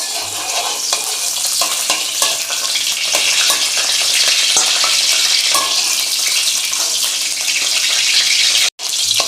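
Oil sizzles loudly in a pan as ingredients are stir-fried for a northern Thai dish, a dense, continuous frying hiss with scraping strokes and a brief break near the end.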